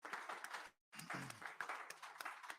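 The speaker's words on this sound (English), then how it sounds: "So give them all a round of applause," Applause for the performers, including a soca vocalist, at a Culturama 2023 carnival media launch: a full burst of clapping from the audience that breaks off briefly, then resumes in a dense, steady wash.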